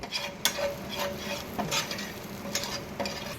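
Butter melting in a hot pan with kasuri methi and pav bhaji masala, giving a steady close sizzle broken by repeated scraping stirs of a spoon against the pan, with no talking.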